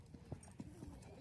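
A horse's hooves clip-clop on a farm during riding, a few quick uneven hoofbeats close by and faint, with talk in the background.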